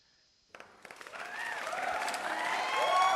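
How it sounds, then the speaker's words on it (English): Recorded applause alert played over a magic livestream, silent for half a second and then rising into dense, steady clapping and cheering that swells louder toward the end. "thank you for the applause"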